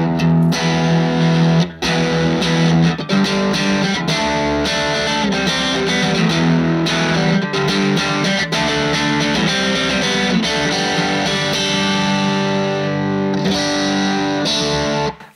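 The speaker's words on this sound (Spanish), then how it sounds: "puedo controlar muy bien la distorsión que tiene ese ampli con el volumen de la guitarra" Electric guitar played through an H&K Tubemeister Deluxe 20 tube amp with heavy distortion, loud sustained chords and riffs with brief pauses, no talking over it.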